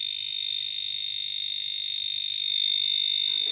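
Cable tester giving a steady, continuous high-pitched tone while tracing a broken PLN mains electric cable, constant and close, with faint rustling near the end and no speech.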